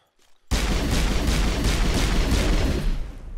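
Gunfire in the Mass Effect video game starts abruptly after a brief quiet and becomes a loud, rapid burst of repeated shots firing steadily for nearly three seconds before easing off.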